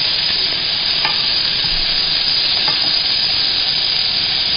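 Chorizo and onion sauté hard in a hot pan, a loud, continuous close-up sizzle with a few faint stirring scrapes and no talking.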